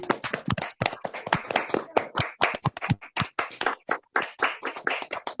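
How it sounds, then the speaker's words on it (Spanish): Online meeting participants clap for Guillermo through open microphones, producing uneven, overlapping bursts of hand claps from several sources, close and sharp with brief gaps. "si me pueden apoyar, compañeras y compañeros abriendo su micrófono y darle un aplauso a Guillermo por su participación"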